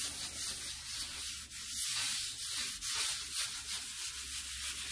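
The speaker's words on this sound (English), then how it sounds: "all I do is just lightly rub on my glass top here" A stainless steel scouring sponge scrubs baked-on food off a glass stovetop, making steady, close, gritty rubbing strokes with brief pauses, and no one speaks.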